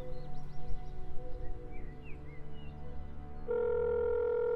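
A telephone rings on an outgoing call, a steady electronic ring tone that comes in clearly toward the end over a low background hum, with no talking.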